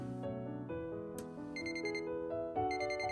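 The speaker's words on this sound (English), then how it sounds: "right as the alarm clock went off" An alarm clock rings out clearly over a soft musical backing, its bright repeated chime bursting in and recurring across the few seconds, close and prominent with no talking.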